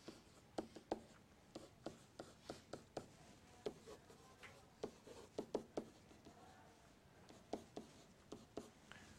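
Handwriting math, a steady series of soft taps and short scratchy strokes in uneven bursts, quiet and close, with no talking.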